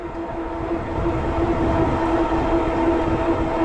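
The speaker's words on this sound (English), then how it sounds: "You can hear the hub motor." Electric bike hub motor whirs with a steady tonal whine while riding, mixed with continuous tire and road rumble, constant and close throughout.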